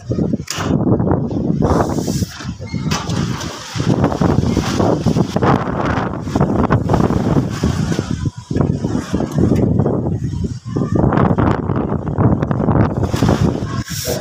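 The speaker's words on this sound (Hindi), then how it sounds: "इतनी तेज़ हवा है, साथ में बादल है" Strong wind roars and buffets the microphone continuously under a cloudy sky, with gusts rising and falling throughout and no other clear sounds.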